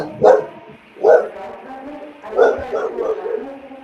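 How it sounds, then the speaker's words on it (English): A dog barks three times, the last bark trailing into a short whimpering yip, fairly close and clear against a quiet room. "heard that dog barking"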